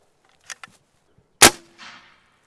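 An air-powered shotgun fires a single sharp, loud blast, preceded by a couple of small mechanical clicks and followed by a brief noisy tail.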